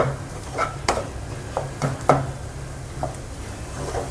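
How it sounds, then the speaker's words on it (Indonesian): Potato filling with peas is stirred and sautéed in a pan, with soft scraping and clinking strokes of the spatula every so often over a faint, steady sizzle, close up and with no talking. "Tumis sampai tercampur rata ya"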